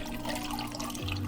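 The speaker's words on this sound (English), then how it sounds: "Now we pour over the ice" Coffee poured over ice for an iced latte, a steady liquid stream with a rising tone as the glass fills, close and continuous with no talking.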